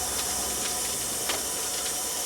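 Steam hisses steadily and loudly from the injector of a Tasker showman's steam engine, a continuous close rushing with faint ticks.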